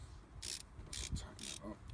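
Ratcheting wrench tightening a bolt on an Airman PDS185S portable air compressor during belt servicing, a few separate bursts of mechanical clicking close by.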